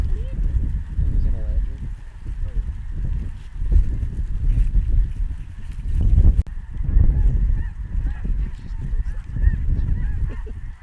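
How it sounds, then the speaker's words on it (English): A large flock of snow geese honks continuously overhead during a North Dakota hunt, with wind and low rumble underneath, while several hunters talk over the calling. "Look at all those birds."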